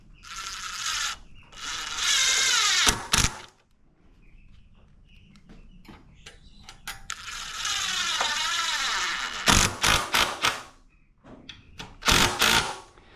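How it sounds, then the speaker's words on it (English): A power drill drives screws through half-inch metal straps holding conduit on a wooden chicken tractor frame, sounding in several loud bursts of whirring separated by quiet pauses and short clicks, close by and with no speech. "I'm going to put 2 on each, like so, and just screw these in."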